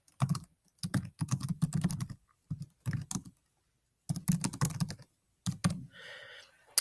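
Someone typing on a computer keyboard, filling in a site title: bursts of quick, close key clicks separated by short pauses.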